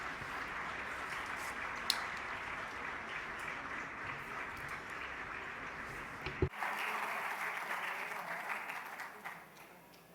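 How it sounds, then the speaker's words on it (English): A round of applause welcoming the Vice President of Colombia at a conference, sustained clapping from a seated audience that eases off, swells again after a knock, then fades. "Let's welcome her with a round of applause."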